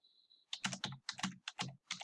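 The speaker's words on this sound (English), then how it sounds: "And now I can start typing my paragraph." Typing on a computer keyboard while writing an MLA-formatted paper, heard as quick, close clusters of key clicks in an irregular rhythm after a brief steady tone, with no speech.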